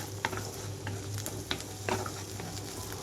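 Garlic shoots and onions fry in a pan, stirred in for urad dal chutney, giving a steady close sizzle broken by three sharp scraping stirs.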